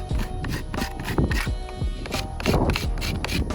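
A paintbrush handle scrapes stone mortar smooth on a stone-wrapped column, a quick rhythmic series of gritty rubbing strokes, close and steady, repeating several times.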